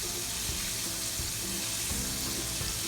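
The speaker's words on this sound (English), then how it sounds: "going to take some of my hot oil and dump it right over the top of these cube steaks" Hot oil poured over cube steaks for country fried steak crackles into a loud, steady sizzle, dense and continuous throughout with a few faint clinks underneath.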